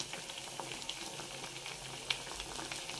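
Saba bananas boil in a pot with a steady, faint bubbling hiss that carries on without a break, punctuated by a few tiny pops.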